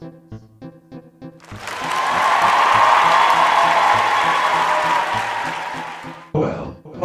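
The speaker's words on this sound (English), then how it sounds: "Wait for applause." Applause swells up after a few soft notes, holds steady for several seconds as a broad wash of clapping, then fades out.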